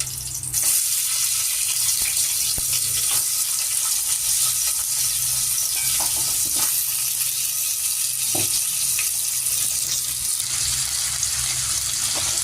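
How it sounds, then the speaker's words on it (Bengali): Potatoes fry in a pan with a constant, even sizzle and hiss, close and unbroken, with a few faint clicks and knocks underneath. "আলুগুলো একটু ভেজে নেব।"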